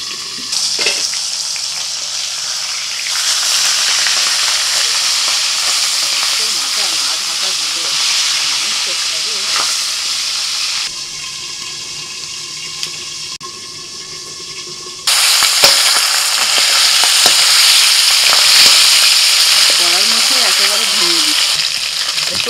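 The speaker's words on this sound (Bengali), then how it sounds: "ভালো করে ভাজতে হবে মাথাটা" Katla fish head frying in hot oil in a pan, a loud continuous sizzle and hiss that shifts in intensity, briefly quieter midway before surging louder again, with no voices.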